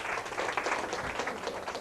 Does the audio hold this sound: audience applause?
yes